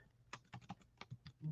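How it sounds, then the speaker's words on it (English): Quick, uneven keystrokes tapped on a computer keyboard while typing a web address, about a dozen clicky presses in a short burst, close and fairly quiet, with no talking. "Let me type that up here for you."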